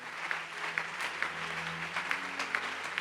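A church congregation at an Easter prayer service claps in steady applause, a continuous crowd patter with a few sharper accents, moderately loud and without talk.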